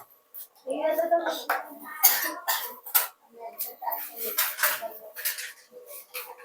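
A person coughs a few times in a school classroom, short harsh bursts mixed with general room noise and clatter, with a teacher and children talking around it.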